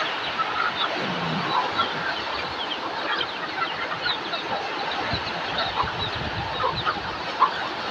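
Chickens cluck steadily at close range in a busy farmyard, a dense layer of overlapping clucks and calls that runs without a break and has no talk over it.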